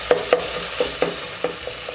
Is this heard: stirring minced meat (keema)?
yes